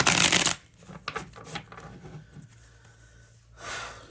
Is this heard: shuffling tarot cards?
yes